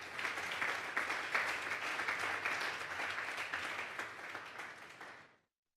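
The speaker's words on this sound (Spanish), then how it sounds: "Denle un fuerte aplauso pues al Señor esta tarde." A church congregation at a Sunday service gives the Lord a sustained round of applause, dense steady clapping from many hands that fills the room, then stops abruptly near the end.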